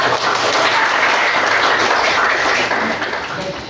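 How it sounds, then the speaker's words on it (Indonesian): Classroom applause for a presenting student group: a dense burst of many hands clapping nearby, loud and steady before tapering off toward the end. "Beri tepuk tangan untuk kelompok."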